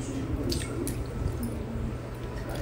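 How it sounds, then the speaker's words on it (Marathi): Three kilos of potatoes are washed in water, with soft drips and small splashes sounding faint and close throughout. "मी आता हे आधी स्वच्छ धुवून घेणार आहे पाण्यामध्ये"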